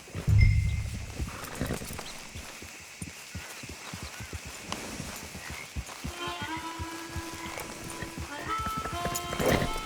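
Horse hooves clip-clopping at a steady walking pace in the video game Red Dead Redemption 2, close by, with music tones rising in the background toward the end.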